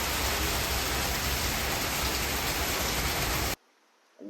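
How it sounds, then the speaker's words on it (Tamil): Heavy rain pours down in a loud, dense, unbroken roar of drops on surfaces, then cuts off abruptly near the end. "செம மழை அடிச்சு பிரிச்சிருச்சு."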